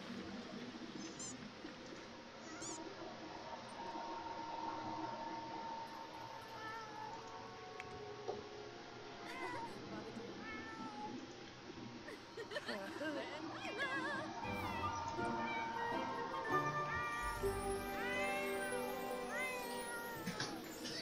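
A cat in The Sims 4 meows repeatedly in a life-simulation game, with drawn-out and rising yowls that grow more insistent toward the end, heard over soft in-game background music and chimes.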